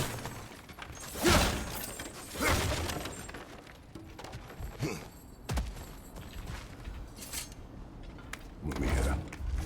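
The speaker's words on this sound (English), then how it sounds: "back to smashing through things for fun and profit" Breakable objects smashed apart in God of War Ragnarök, a few loud crashing shatters spaced through the clip, each bursting out and then quickly fading, over a low game background.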